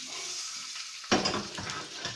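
Pike fillet gently frying in a pan makes a soft, steady sizzle, followed by a sudden clatter and a louder burst of frying as the fish is handled, close and without voices.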